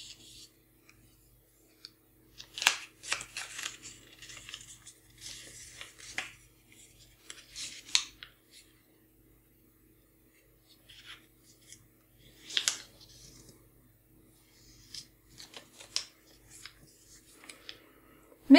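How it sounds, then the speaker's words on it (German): Origami paper is creased and folded by hand, producing close, soft crinkles and scraping rubs in irregular bursts separated by quiet pauses. "Knickst dein Blatt und klappst die Spitze dann wieder nach außen."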